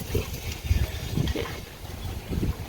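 Strong gusting wind buffets the microphone in a backyard garden of chili plants grown in baskets, a steady low rumble with rising and falling gusts and no talking.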